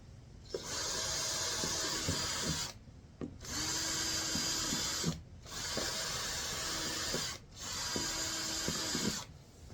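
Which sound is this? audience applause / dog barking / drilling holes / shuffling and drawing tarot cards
drilling holes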